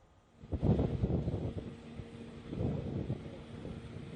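Strong gusting wind ahead of Cyclone Dana in Odisha or Bengal, a low rumbling roar against the microphone that swells near the start and again toward the end.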